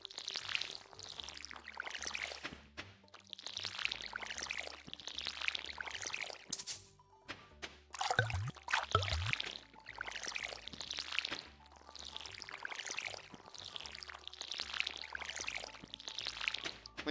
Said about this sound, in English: I guess since we're waiting, we can water this.